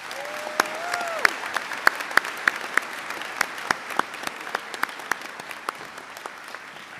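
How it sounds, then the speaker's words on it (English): Audience applause for faculty at a college commencement ceremony, a sustained crowd clapping with some sharp, distinct individual claps standing out near the front. A brief vocal tone rises at the start. "Please join me in giving them all a round of applause."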